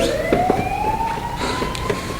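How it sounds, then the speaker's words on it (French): Emergency vehicle sirens wail with a long rising tone, moderately loud and slightly distant, over a background of street noise and faint clatter. "Les sirènes!"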